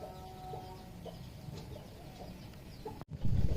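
Chickens cluck softly now and then near a house, with a brief dropout and then louder low rustling and bumping near the end.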